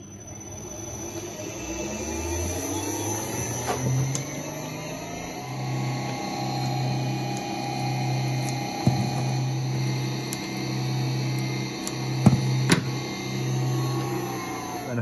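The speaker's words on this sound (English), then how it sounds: "right now we remove the nozzle and are now producing these big fat long stripes of plastic" A filament extruder with its nozzle removed hums steadily while pushing out thick strips of plastic, with a constant motor drone, faint tonal whine and a few small ticks and clicks.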